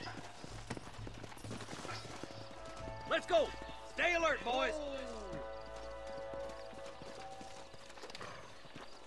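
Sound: horses trotting, from video game Red Dead Redemption 2

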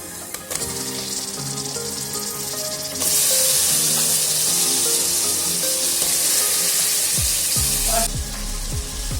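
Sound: mutton frying in oil with ginger garlic paste

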